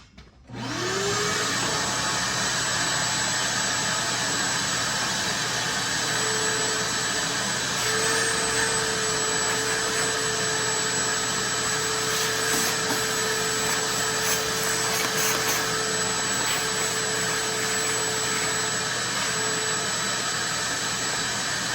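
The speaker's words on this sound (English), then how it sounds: "Probably need to vacuum it one more time." A vacuum cleaner whirs up and runs steadily with a loud, constant drone and a faint rising whine, no voices over it.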